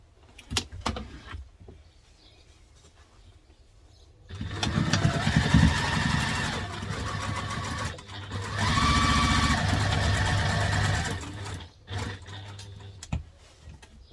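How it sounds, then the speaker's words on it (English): A sewing machine stitches across a Peregrina crosspack bag in two close bursts of fast, rattling whir with a brief pause between them, bracketed by quiet handling clicks and fabric shuffling. "Right, now we're going to stitch across."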